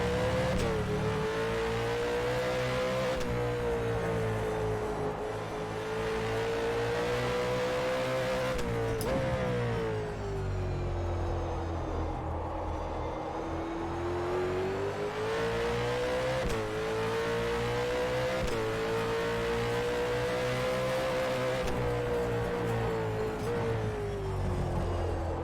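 A supercar engine in the rFactor 2 racing game at Sydney Motorsport Park at night, revving loud and continuously with rising and falling pitch through gear shifts, sometimes with faint tyre squeal.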